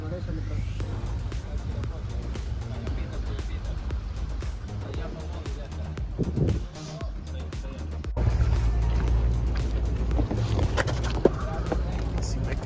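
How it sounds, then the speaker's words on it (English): A boat motors from Puerto Ayora in the Galapagos, giving off a steady low engine drone with splashing and wind noise, while voices talk over it. "You have to go on a boat from Puerto Ayora to get here."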